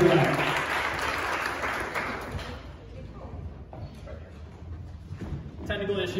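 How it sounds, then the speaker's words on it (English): Applause from a pitch competition audience greeting a finalist onstage, a loud crowd clapping that fades down through the middle and swells again near the end. "Give her a round of applause, come on."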